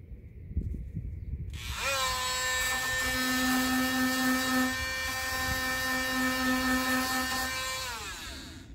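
A power tool spins up and sands rust from the fender of a 2008 Honda Ridgeline, a steady high-pitched whine that holds for several seconds and then begins to wind down, heard alone and fairly close.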